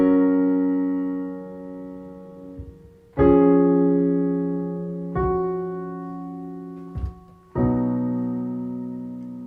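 Solo piano plays the third section of a piece, with sustained low chords and a few struck notes ringing out alone in a slow, spacious rhythm, each new chord landing clearly over the decay of the last.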